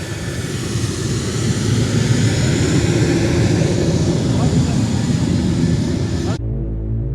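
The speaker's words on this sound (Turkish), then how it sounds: "halen ağır yükü çekiyor F-4E 2020 uçaklarımız" An F-4E 2020 fighter jet's engine roars loud and steady, a continuous heavy drone that cuts off abruptly near the end.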